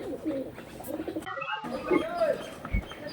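White pigeons cooing in a loft, soft low coos recurring close by over a background of faint chatter and a brief quiet gap, with a few higher bird calls mixed in.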